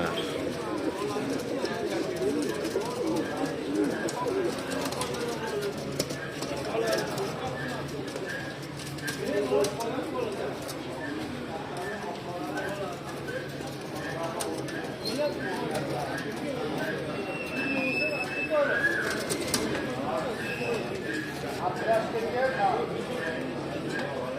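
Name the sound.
pigeons cooing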